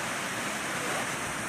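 Heavy water flowing at the Sacramento Weir with its gates still closed, heard as a continuous, dense, rushing roar that stays even throughout.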